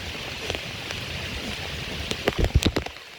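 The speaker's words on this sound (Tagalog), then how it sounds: "Inabot na kami ng ulan." Rain falling outdoors among mangroves as a steady hiss, with a cluster of louder close drips and splashes toward the end.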